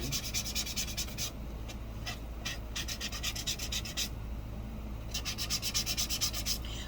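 Steady, rhythmic hand sanding with a Dollar Tree sanding pad, short repeated scraping strokes in bursts, close up with a low background hum.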